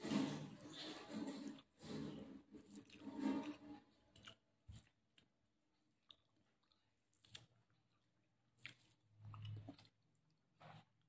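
Close, soft chewing and squishy mouth sounds while someone eats rice, fish curry and fried bitter gourd, in bursts separated by quiet pauses.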